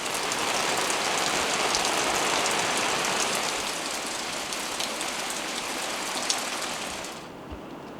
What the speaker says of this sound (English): the rain outside has picked up by quite a bit